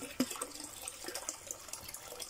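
Water gushes from a one-inch hose laid out to carry water to a nipa hut, a faint steady splashing flow with small irregular spatters.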